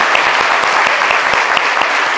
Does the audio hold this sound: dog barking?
no